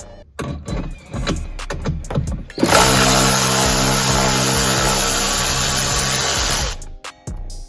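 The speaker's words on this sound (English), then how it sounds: "first we're going to unscrew this bolt here, that T-25 Torx bit. And now we're going to get this bolt out." A power driver fitted with a T-25 Torx bit spins out a bolt on a Jeep Wrangler JL during a Mopar rear grab handle install, giving one loud, steady whirring burst of about four seconds after softer handling clicks.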